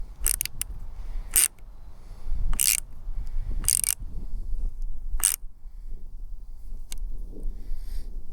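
A metal wrench clicks and ratchets in short bursts while tightening the bolt on a bicycle mirror, with several sharp, close clicks separated by pauses over low background rumble.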